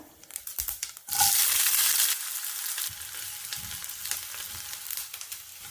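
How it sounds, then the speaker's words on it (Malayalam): Loud sizzling of tomatoes, onions, green chillies and curry leaves hitting hot coconut oil after mustard seeds, a sharp burst of frying followed by steady crackling and some stirring. "ചൂടായ ശേഷം കടുകിട്ട് പൊട്ടിയ ശേഷം തക്കാളി, ഉള്ളി, പച്ചമുളക്, കറിവേപ്പില വഴറ്റിയെടുക്കാം"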